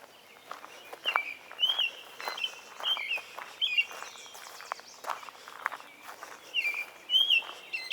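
A robin sings repeated clear, whistled phrases nearby on a butterfly trail beside cattails, with soft footsteps or rustling underneath.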